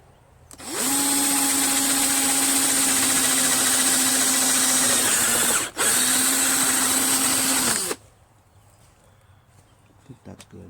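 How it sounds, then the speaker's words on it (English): A power drill whirs loudly and steadily for several seconds, stops briefly, then runs again before cutting off, leaving a quiet room. "I suck at drilling."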